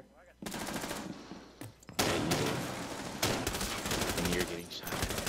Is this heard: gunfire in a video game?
yes